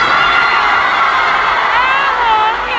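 A large crowd of fans cheers and screams loudly at a concert in Jakarta, with high-pitched shouts and whoops sustained throughout in a dense, continuous roar.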